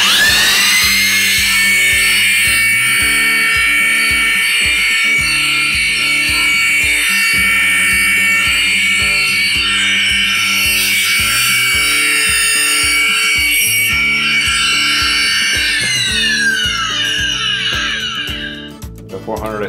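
A Makita PW5001C wet polisher running a 400 grit pad across tile gives a loud, continuous high-pitched whine with shifting overtones, holding steady for most of the stretch before easing off near the end.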